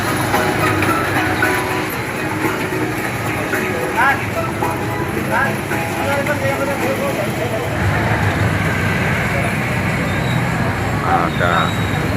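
A train at Ketanggungan station in Brebes rumbles steadily close by, its rolling noise mixed with the murmur of a crowded platform and people talking.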